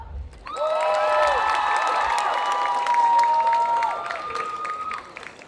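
An audience at a Saturday cosplay contest at a Japan Addict convention applauds and cheers loudly and steadily after a stage show, clapping and shouts swelling together while a sustained musical chord rings over the crowd before fading out.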